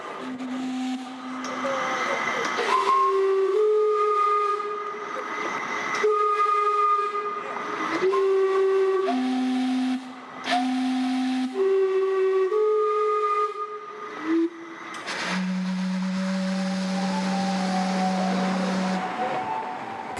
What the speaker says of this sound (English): We make a first stop at the world's first steam clock.